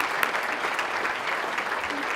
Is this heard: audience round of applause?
yes